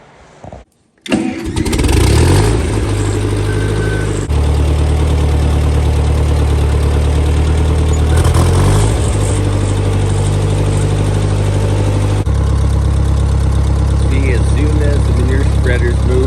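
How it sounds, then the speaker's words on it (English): Farm tractor engine starting up in a sheep barn and running at a steady idle to move a manure spreader, a loud, close, continuous low rumble that shifts pitch slightly partway through. "I'm going to move this manure spreader and then they'll just probably come right in."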